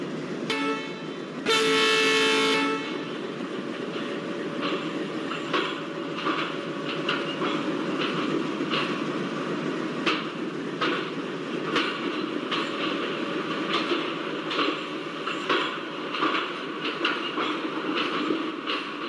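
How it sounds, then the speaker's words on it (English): A WDM3A diesel locomotive hauls a Shivamogga Town to KSR Bengaluru passenger train, opening with a loud horn blast, then a steady rumble with rhythmic clickety-clack of wagon wheels over rail joints as it passes close by. "Krishnarajapuram WDM 3A which is taking charge of Shimoga Town KSR Bengaluru passenger"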